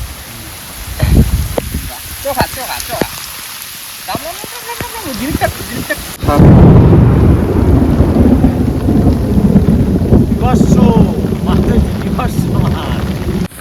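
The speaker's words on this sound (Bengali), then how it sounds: "এই যে বৃষ্টি শুরু হয়েছে" Heavy monsoon rain with thunder in the Sundarbans during a fishing trip: light patter under a voice at first, then a sudden loud, steady downpour roars in about halfway through, with low rumbling beneath it.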